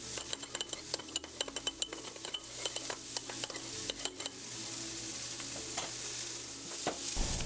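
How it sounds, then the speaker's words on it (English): Chicken sautéing in a pan for kung pao with Korean gochujang chili paste: steady sizzling and frying under repeated clinks and scrapes of a utensil stirring against the pan, close and moderately loud, no talking. "So after I saute my vegetables and I pull them off and make a little side sauce, I add my chicken."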